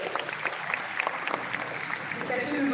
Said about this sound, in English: Ladies and gentlemen, huge round of applause for all our panelists and our moderators.